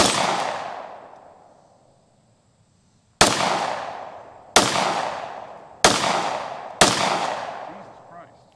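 Pistol gunfire at an outdoor range during a magazine dump: one sharp shot with a long echoing decay, a pause, then four loud close shots in fairly quick succession, each ringing out.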